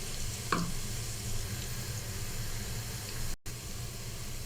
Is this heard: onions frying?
yes